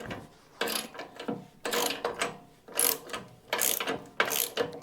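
A hand ratchet backs bolts out of the rear rotor on a vintage motorcycle, close by, in a steady run of five or six rhythmic clicking bursts with short pauses between them.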